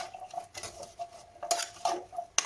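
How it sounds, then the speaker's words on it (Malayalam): A spoon stirs spices and water in a pot, a few quiet clinks and scrapes of metal against metal up close, with no voices. "ഇളക്കി കൊടുക്കാം"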